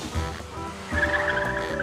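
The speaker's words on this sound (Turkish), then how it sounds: "Patinaj çekme." A car's tires spin and squeal in wheelspin over a steady engine roar, with a high whining squeal rising in the second half, close and loud with no talking.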